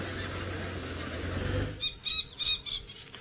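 A Coqui francolin calls from dense thickets on a dawn safari drive at Djuma in the bush. A few bright, repeated squawking notes rise over a steady rumble of wind or engine noise.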